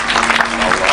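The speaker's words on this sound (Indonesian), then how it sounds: "tepuk tangan untuk Bu Sumiati." Audience applause for Bu Sumiati, a short, loud burst of dense clapping from a crowd, close and continuous with a steady hum beneath.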